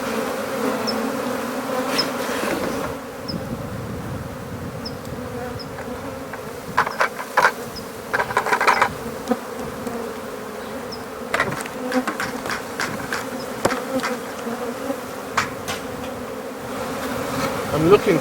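A swarm of bees being relocated to a box near a tree buzzes steadily in a dense mass, a constant droning hum with occasional louder passes close by.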